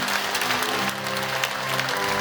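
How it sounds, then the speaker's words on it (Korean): Congregation clapping together in a Korean church during a prayer service, dense continuous applause filling the room at steady loudness throughout, with no talk over it. "하나님께 영광의 박수 올려드리겠습니다."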